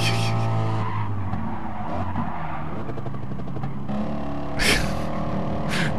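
A Ford Mustang in a racing video game roars with a heavy, steady engine drone while its tires skid and squeal, loud and continuous, with a louder burst near the end.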